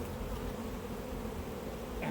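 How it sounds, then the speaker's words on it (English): Honey bees buzz steadily around an open hive during an inspection, a close, even, continuous drone with no talking. "So you see the bees, they're quite calm, really nice."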